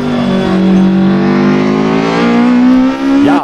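An Opel Kadett C 16V in the Assetto Corsa racing game, its engine droning loud and close at steady revs with a slowly rising pitch, a brief dip near the end.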